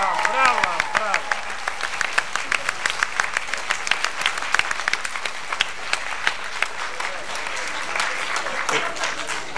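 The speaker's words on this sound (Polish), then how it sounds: "Brawa, brawa, brawa." A large awards-ceremony audience at the Baltic-Satelid 1998 festival claps loudly and steadily, with dense sharp hand claps filling the hall and a voice speaking over the start.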